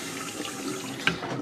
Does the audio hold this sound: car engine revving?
no